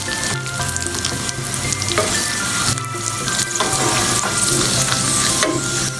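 Moong dal fries in ghee for payasa, giving a steady close sizzle with scraping stirs and occasional spoon clinks against the pan, and no voices.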